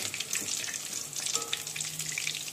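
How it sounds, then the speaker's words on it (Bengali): Chicken pakora deep-frying in a pan of oil gives a steady, close bubbling sizzle with crackling pops throughout. "এখনো ভাজা হয়নি, আর একটু ভাজা হবে। ভাজা একটু হলেই আমি উল্টে নেব।"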